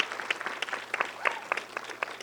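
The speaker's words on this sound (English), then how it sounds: "Give her a round of applause." Audience applause at a Los Angeles fashion and beauty conference for bloggers, a brief patter of clapping with sharp bursts over a steady hum.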